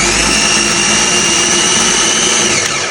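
A kitchen blender runs steadily at full power while a Brazilian-style sauce is made, a loud continuous motor whine with a dense roar and no pauses.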